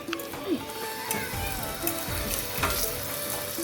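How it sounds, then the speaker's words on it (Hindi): Ghee spread over a paratha on a hot griddle sizzles and crackles steadily up close, with a few brief scraping touches and faint background voices. "ये देखो कितना घी डाल रही हूँ आपके पराठे के ऊपर"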